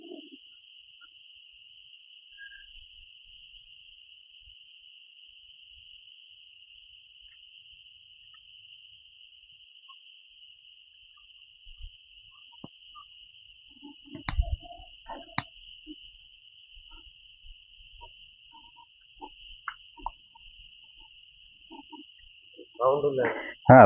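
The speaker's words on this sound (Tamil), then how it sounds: "அந்த பூச்சி என்ன ஒரு பூச்சி கத்துது அதோட சவுண்டு மட்டும் தான் கேட்குது" Forest insects in the Western Ghats, near a remote village, calling in a continuous, even high-pitched drone that holds unchanged throughout, with faint scattered rustles and knocks and a brief louder sound near the end.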